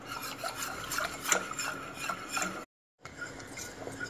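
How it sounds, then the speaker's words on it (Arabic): Two and a half cups of milk being stirred hard in a pot for béchamel sauce, a steady scraping, rasping rub of utensil against the pan bottom with repeated strokes, close and continuous apart from a brief pause. "هقعد ادوبهم كده عشان ما يكلكعش معايا"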